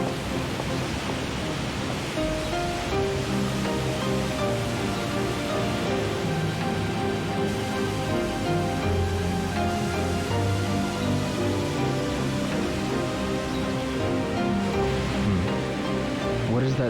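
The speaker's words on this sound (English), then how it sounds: "It sounds like a waterfall." Waterfall-like rushing water roars steadily in the video game Shenmue II, a dense, unbroken wash of noise at constant loudness, heard alone without talk for the whole stretch.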